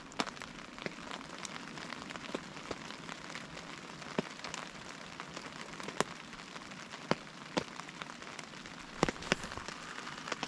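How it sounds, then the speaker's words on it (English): Steady rain patters on a tarp and a lake surface, with scattered sharper drops ticking loudly against a continuous soft hiss. "listening to the raindrops hitting the tarp and watching the raindrops hitting the water"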